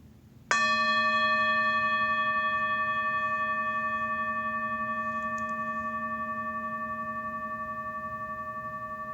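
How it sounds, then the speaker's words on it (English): A meditation bell is struck once, giving a clear sharp onset and a pure ringing tone with steady overtones that decays slowly and keeps sounding alone in a quiet room. "I will sound the bell and invite you to follow the bell"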